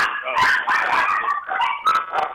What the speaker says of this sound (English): Some dogs in the background